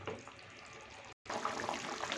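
Eggplant kuzhambu curry bubbles in a pot, a soft continuous simmering fizz heard close and alone, broken by a brief silent gap.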